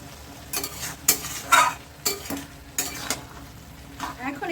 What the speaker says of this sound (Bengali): এটাকে একটু ভালো করে নেড়ে চেড়ে দিচ্ছি